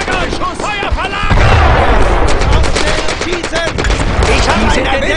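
Dense, continuous gunfire from the Brothers in Arms: Road to Hill 30 battlefield: rapid rifle and machine-gun bursts crackling throughout, with a heavy boom partway in and shouted voices mixed into the din.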